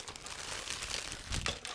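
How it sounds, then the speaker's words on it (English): A resealable plastic bag being opened up close, with a continuous crinkle of thin plastic and a few sharper rustling bursts toward the end. "this is a resealable plastic bag, so it should be quite quick and easy to open"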